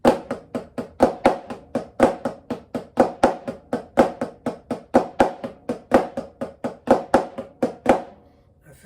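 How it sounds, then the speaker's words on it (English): A snare drum plays a flamacue and paradiddle exercise in a steady, even stream of crisp strokes with regular accents, close and loud, alone until the strokes stop near the end. "Number 4 just adds a paradiddle, which then makes it so that the Flamacue comes out starting with the left-hand flam."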